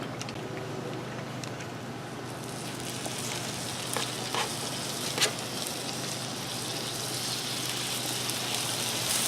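Meatloaf burgers sizzle in oil on a hot Blackstone griddle, a dense, steady frying hiss with a few small pops, close and without speech.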